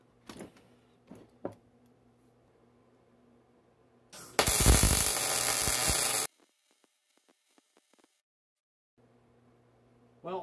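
A MIG welder laying a bead, a steady loud crackling hiss that runs for about two seconds and cuts off abruptly, with quiet clicks and handling noises before and after.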